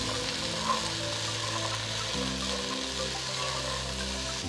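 Carrots, beans and peas stir-fry in a pan, a soft continuous sizzle with light stirring under a low steady hum.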